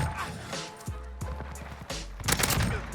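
An M4A1 rifle firing in a video game, built for maximum recoil: several short bursts of rapid gunfire, close and loud, with a brief lull between bursts and a denser burst near the end.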